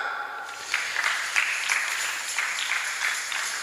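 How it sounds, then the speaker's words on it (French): Congregation applauding during a Sunday church service, a steady wash of clapping with small swells of louder bursts, sustained throughout without talk. "On acclame."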